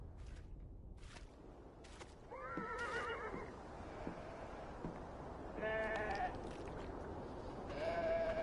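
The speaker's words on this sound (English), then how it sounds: "The sheep need water." Sheep in the video game Beyond: Two Souls on PS4 bleat several times in a farm scene, the calls rising over steady outdoor ambience with faint hoof-like clatter and no talking.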